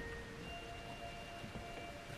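Rain falls in the horror game Outlast 2, a faint, steady hiss of drops, quiet and even throughout with no voices.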